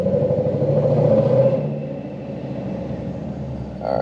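A supercharged Lexus RC F engine runs steadily up close, a deep continuous rumble that swells briefly, eases back to a lower idle-like drone, then lifts again at the very end.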